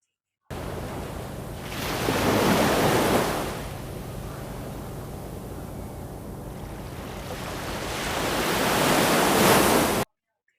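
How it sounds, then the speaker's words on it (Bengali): Ocean surf along the Doha Corniche in Qatar rolls in with broad washing swells, rising and fading twice, steady background roar between the breaking waves, with some wind. "সমুদ্রের সাইডে গেলে সমুদ্রের যে পানির যে একটা শব্দ, এই শব্দটা অনেক ভাল লাগে শুনতে"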